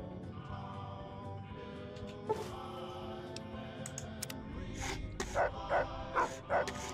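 A dog barks several times in Fallout: New Vegas at Jacobstown, short sharp yelps clustered toward the end over steady game ambience and faint keyboard tapping.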